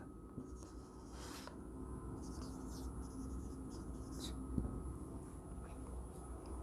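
Pen or chalk scratching out a proof of the Carnot theorem in a physics lesson, faint intermittent strokes over a quiet room hum.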